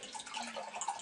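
Gin poured into a glass as the base of a gin and tonic, a brief close liquid splash and trickle lasting about a second.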